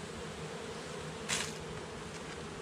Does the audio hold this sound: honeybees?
yes